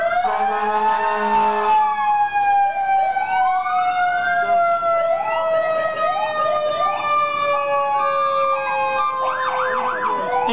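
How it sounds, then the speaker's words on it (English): Fire truck siren at a parade, a loud wailing siren sweeping down in pitch close by, with a brief yelping burst near the end. "And we always light the lights and sirens as well."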